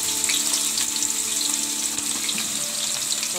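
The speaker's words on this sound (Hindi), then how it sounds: "सबसे पहले तेल के अंदर हम प्याज डालेंगे फ्राई करने के लिए।" Onions fry in hot oil, a dense continuous hiss and sizzle close by with a watery, washing-like texture, no voices, holding steady throughout.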